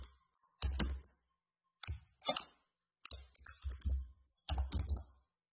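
Computer mouse clicks during a network simulation lab, heard as crisp, close clicks in small bursts separated by silent pauses, with no talking.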